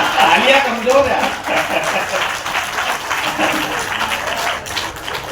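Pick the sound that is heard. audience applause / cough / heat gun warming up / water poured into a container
audience applause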